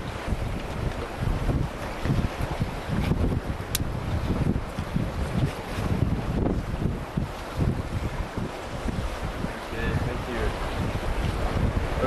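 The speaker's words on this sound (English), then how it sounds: "It's quite stormy and it's very windy and it's going to be a difficult swim," Strong, gusting wind roars across the open sea on a stormy night, buffeting the microphone in a dense, unbroken rush with waves churning beneath it throughout.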